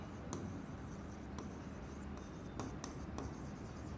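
Chalk or marker tapping and scraping on a board as physics formulas are written, a few sharp clicks spread across several seconds over a continuous low background hum, close and moderately quiet.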